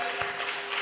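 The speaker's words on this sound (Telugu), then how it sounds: "క్లాప్స్" Crowd clapping at a rally in Dhone, a steady broadband patter of many hands that holds at an even level with slight swells throughout.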